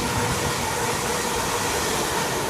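A London Midland Class 350 electric unit, 350 108, runs straight through platform 4 without stopping, giving a steady, dense, loud roar of traction and wheel noise that holds at an even level throughout.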